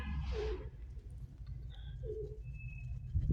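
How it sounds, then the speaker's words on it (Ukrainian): A pigeon coos twice, soft low throaty calls, over a steady low background rumble with faint chirps. "Пишнюча гарна голубочка."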